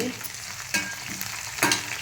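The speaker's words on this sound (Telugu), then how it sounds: "నేను పోపు పెట్టుకుంటున్నానండి" Hot oil sizzles and crackles steadily as tempering spices fry with onions, green chillies and curry leaves, with a few sharper pops and stirring clatters in between.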